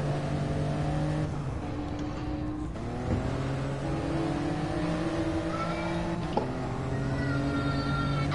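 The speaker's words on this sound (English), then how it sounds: "Mopar coming up on your left." A Mopar car drives up at a 2021 exhibition event, its engine drone holding steady with rising and shifting revs and layered with other engine tones throughout.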